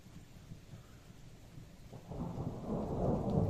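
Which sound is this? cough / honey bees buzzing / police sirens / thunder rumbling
thunder rumbling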